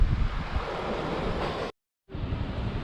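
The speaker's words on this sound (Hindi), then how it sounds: "और बस अब इस किनारे किनारे नदी के पानी का आनंद लेता हूँ।" Water rushes continuously along a riverbank in the hills, broad and steady with a windy edge, briefly cutting out before resuming at the same level.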